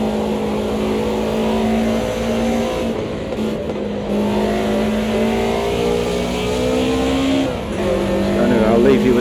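E30 BMW M3 engine in a sim racing game, droning steadily as it is held through a drift, with pitch sliding up and down and a short lift near the end, loud and continuous.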